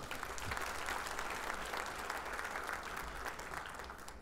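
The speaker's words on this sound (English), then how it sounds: "Let's give a round of applause to her." Sustained applause from an audience at a State of the City address, a dense, steady wash of many hands clapping at full volume for the whole stretch, with no speech over it.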